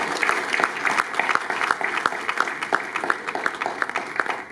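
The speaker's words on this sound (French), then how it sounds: "je vais quand même demander à mes amis d'applaudir pour Félix Oisegois pour cette initiative" Applause at a press conference, a sustained burst of crowd clapping with sharp individual claps standing out, fairly loud and close throughout.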